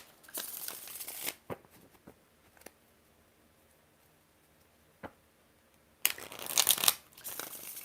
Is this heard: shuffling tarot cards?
yes